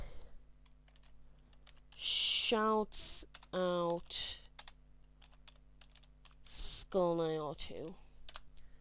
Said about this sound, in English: I'll just type his name in chat.